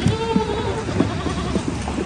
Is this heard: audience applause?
no